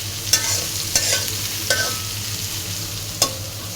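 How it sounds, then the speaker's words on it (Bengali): Onions added to hot oil in a pan, a low steady frying hiss broken by a few sharp scraping stirs of the spoon, close and alone. "তেল গরম হয়ে গেছে, আমি এখন পেঁয়াজগুলো দিয়ে দিব।"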